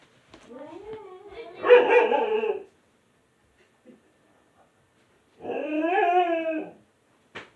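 A dog indoors gives two drawn-out, howling barks with whining edges, separated by a few seconds of quiet, loud and close.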